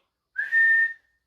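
A person whistles in imitation of a referee's whistle during football talk: one clean, sustained high blast, sharp at the start and trailing off after about half a second, heard alone with no talking.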